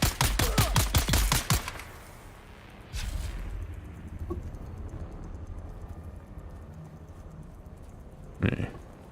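A rapid burst of close, loud automatic gunfire in a video game opens the scene, followed by a couple of isolated shots and a final sharp crack against quieter background noise.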